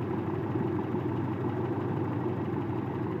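A Toyota 22R four-cylinder engine in a 1995 Toyota truck idles steadily, a smooth even low hum heard close and alone.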